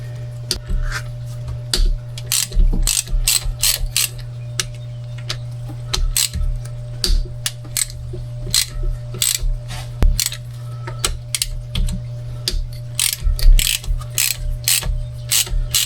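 A ratchet clicks in quick, repeated bursts while breaking loose bolts on a jet ski, the sharp pawl ticks close and clear over a low steady hum, with no talking.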